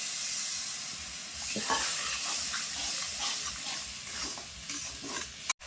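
Chicken kosha masala with salt and Kashmiri chili powder being stirred and fried in a pan: a continuous sizzle broken by rhythmic scraping strokes, close and moderately loud, ending with a sharp clunk.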